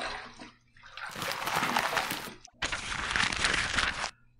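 Water splashes close by as a face is rinsed after a wet shave, in two full bursts of running, splattering water separated by a brief gap.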